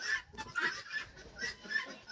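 Bantam chickens and ducks in a farmyard, giving faint, scattered clucks and short calls from some distance.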